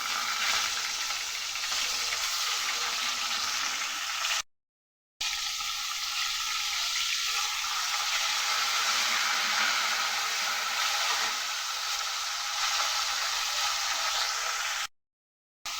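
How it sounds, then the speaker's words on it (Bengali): Steady hiss and crackle of hilsa fish heads frying in hot oil, continuous and close, with two brief dropouts of silence. "তেল গরম হয়ে গেছে আগে ইলিশ মাছের মাথা দুটো ভেজে নিই"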